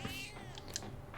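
A cat meows in the Persona 3 Reload video game, one drawn-out, high and fairly close mew over a soft game background, with no talking.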